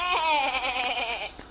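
A goat bleats in a German fairy-tale radio play, one long wavering, voice-like bleat held close and loud for over a second before cutting off.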